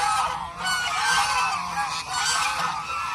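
Farm geese honk loudly and continuously, a dense overlapping flock close by with no talking.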